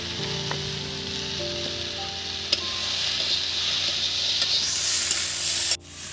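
Sliced bitter gourd and potato sizzle steadily in a pan with turmeric and salt, under close, continuous stirring, with a few light utensil taps and a sharp clatter near the end.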